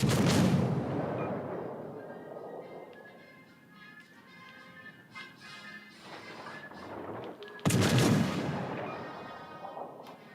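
Warship guns in the naval game Warships: Legends boom heavily, a loud opening blast fading into a rumbling tail with rattling shots, then another big blast near the end, with no talk.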